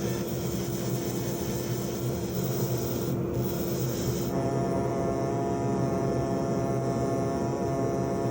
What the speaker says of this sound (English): There's just a little bit more fine work to do with the air abrasives and grinders